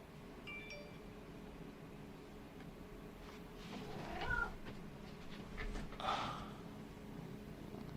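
An older cat gives a couple of faint, brief meows partway through, quiet against a steady low background hum, with soft handling rustles around them.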